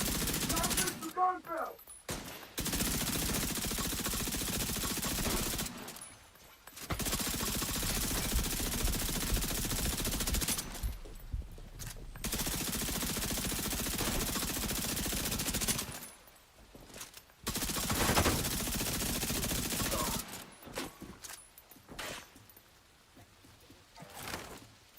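Enemy gunners in The Division 2 fire long sustained bursts of automatic gunfire, loud and close, broken by several short pauses of quiet between the volleys.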